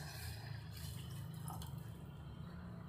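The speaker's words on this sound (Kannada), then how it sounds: "ಈ ಗ್ಲಾಸಲ್ಲಿ 1/4 ಗ್ಲಾಸ್ ನೀರು ಹಾಕ್ತಾ ಇದ್ದೀನಿ." Water is poured into a glass, a quarter glassful, while baby food for a six-to-twelve-month-old is being prepared. The splashing pour is steady and close, with no talk.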